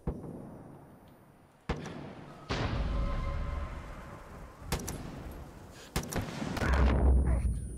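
Several sharp gunshots in the video game Far Cry 5 ring out at irregular intervals, each followed by a lingering reverberant tail, over a low background rumble.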